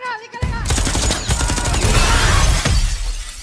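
Gunfire in an action film scene bursts out as a loud rapid volley of shots with shattering, cracking impacts, dense and close, following a brief tonal sound at the start.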